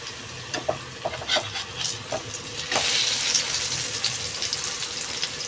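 An egg frying in a pan at home, a steady close sizzle with scattered sharp crackles and pops throughout, no voices.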